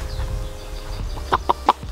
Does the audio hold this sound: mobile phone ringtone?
no